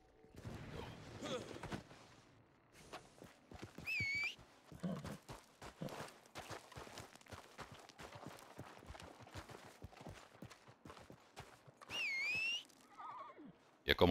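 A horse in Red Dead Redemption 2 Online neighs twice, high and whinnying, over a busy clatter of hooves and rustling, with a short voice-like sound near the end.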